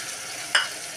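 Tomato puree for chole sautés over medium heat with a constant soft sizzle in a pan, and a single short scrape of a spoon cuts through it midway.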